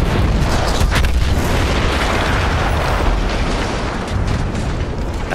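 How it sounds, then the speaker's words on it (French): A massive explosion in a war scene roars loud and close, holding a dense rumbling blast for about five seconds with no talk. "Cette explosion fut l'un des plus beaux spectacles de cette guerre."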